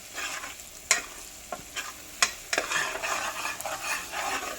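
A spoon stirs turmeric and spices into a methi chaman curry in a pan, giving sharp clinks and scrapes against the metal over a soft sizzle, close and without talking.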